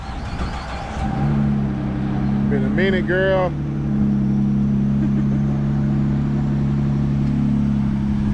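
A Ford EcoBoost truck engine cranks and catches, then settles into a loud steady idle with a brief rev, as someone speaks briefly over it.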